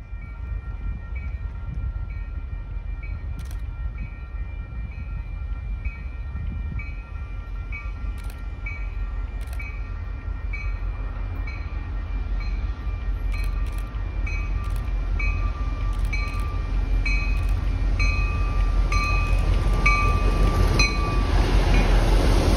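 A wash train rolls past Beverly Junction, where the Newburyport and Rockport lines split. It makes a loud, steady rumble of wheels on rail throughout, with tonal ringing and a few sharp clicks on top. It grows slightly louder toward the end, and no one speaks.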